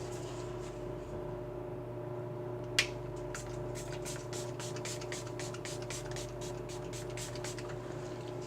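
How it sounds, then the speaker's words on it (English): Makeup setting spray misted from a pump bottle across the face, a string of quick, close hissing bursts repeating steadily over a constant low hum, with no voices. "I'm going to put my setting spray across the top"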